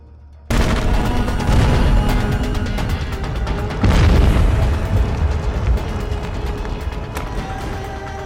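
Loud, sustained burst of gunfire and booming explosions from a movie firefight, with rapid shots and heavy blasts overlapping densely throughout.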